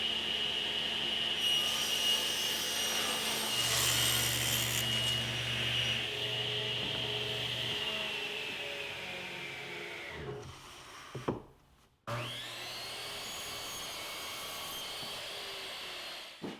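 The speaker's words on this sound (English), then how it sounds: "I'll rip strips of 3/4 inch plywood at 3 inches." A table saw rips 3/4 inch plywood into 3-inch strips for a cabinet base, with a loud steady whine and hum running continuously, then dropping briefly as the cut ends before the saw spins back up to full speed.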